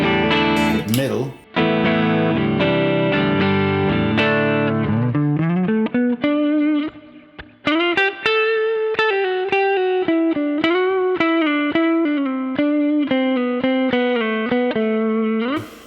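An electric guitar on its middle pickup plays through a NUX Trident pedal into a channel-switching amp, a sustained string of clear, compressed melodic notes with light distortion and reverb, close and steady for about sixteen seconds.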